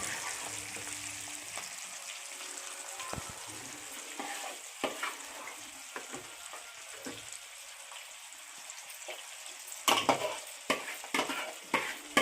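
Tomatoes fry in oil for a Kadiri-style tomato pickle, giving a steady close sizzle broken by scraping stir strokes that grow louder and busier toward the end, with no talking.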